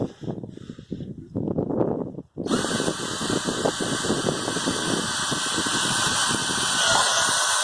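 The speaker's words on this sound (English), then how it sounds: "Right, he's going to be doing his drilling now." A power drill bores drainage holes on a UK family homestead plot, first in short bursts, then running continuously with a steady whine and grinding, loud and close, with no talking.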